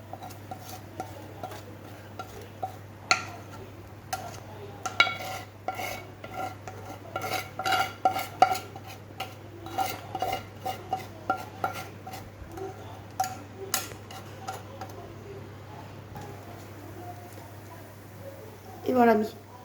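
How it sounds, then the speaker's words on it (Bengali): Chicken filling for spring rolls being tipped and scraped out of a wok, with scattered metallic clinks and scrapes of utensil on pan, moderately close and fairly quiet, under a steady low background hum. "এবার আমি কড়াই থেকে এটা ঢেলে নিচ্ছি।"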